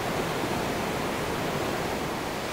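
Fast floodwater rushing down a swollen creek where a tributary joins, a loud, dense, unbroken roar of water close by, with no voices.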